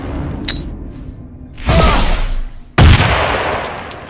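Sniper rifle gunfire in the Hungarian comedy film Gamemasters 2.0 (2019): two loud, sharp cracks with rolling tails, about a second apart, over a low rumbling background.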